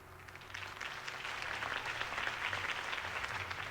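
Crowd applause inside the video game Batman: The Telltale Series, a steady wash of many hands clapping at moderate level, sustained evenly throughout without breaks.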